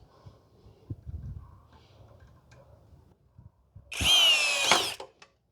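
A Hanabi 16V cordless screwdriver drives a screw, one loud whirring burst of about a second after faint clicks and handling noises.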